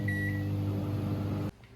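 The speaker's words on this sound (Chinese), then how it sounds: "给它放在碗里面，放在微波炉" A microwave oven hums steadily with an even electrical drone while it heats a bowl of dough, then cuts off abruptly into near silence.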